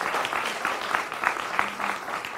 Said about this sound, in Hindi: जोरदार तालियों से इनका स्वागत करिए